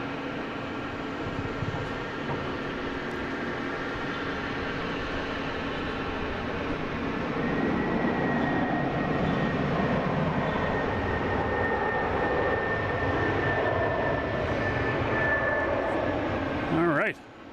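An airliner arriving at Boston Logan from Memphis gives a sustained jet roar with a rising whine that grows louder as it nears, then cuts off sharply, with a voice talking over it.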